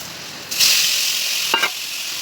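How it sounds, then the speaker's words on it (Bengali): Paneer cubes frying in butter with Kashmiri chili powder and salt in a kadai, a steady bright sizzle that swells louder after a quiet start, with a brief stir-scrape near the end and no voices. "বাটার পনিরগুলো ভেজে নেব।"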